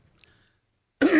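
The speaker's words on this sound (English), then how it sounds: "I've got to clear my throat." A single short, gruff throat clearing, close and fairly loud, after a moment of near silence.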